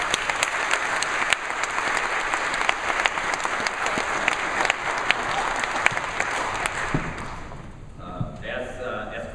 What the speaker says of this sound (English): You can give those ladies a round of applause.